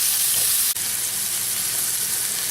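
A keto quesadilla with melted cheese browning in a pan, giving off a close, continuous hiss and sizzle, broken once by a brief dip as it is moved.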